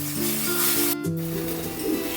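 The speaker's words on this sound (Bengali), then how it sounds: "খুব ভালো করে আমি মশলাটা কষিয়ে নেব।" Spice paste for a katla fish curry frying in oil, a moderate steady sizzle with a brief dip in the middle, a low hum and tonal background sounds underneath.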